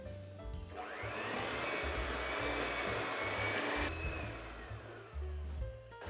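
An electric mixer whirs steadily and fairly loudly as eggs are beaten into cake batter for an Easter simnel cake, its tone shifting slightly as the beaters work, with no talking over it.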